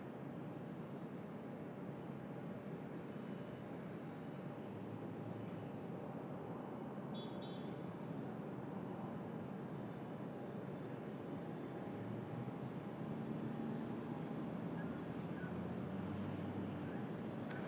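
A Qantas domestic red-eye jet arriving from Perth landing at Sydney Airport, heard as a steady distant airport roar and broadband rumble that persists without variation, with no talking.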